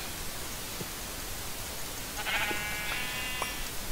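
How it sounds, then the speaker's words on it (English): A single sheep in Minecraft bleats briefly over a steady hiss of background noise, fairly faint and alone. "Sheep."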